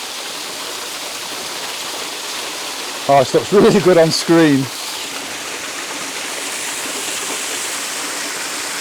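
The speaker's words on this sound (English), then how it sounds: "ledge on the rocks here where the water's cascading down from the top." Water cascading over a rock ledge makes a steady broadband rush throughout, and a voice speaks briefly over it midway.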